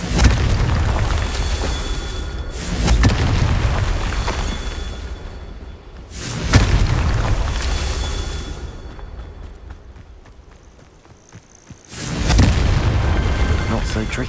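Spell explosions from the Confringo curse in Hogwarts Legacy go off three times as loud booming blasts, each trailing off into a rumbling decay.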